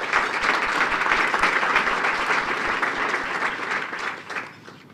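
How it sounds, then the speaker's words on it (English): Loud, dense applause from a luncheon audience fills the room for a few seconds, then gradually thins and fades out at the end. "let's give her a round of applause"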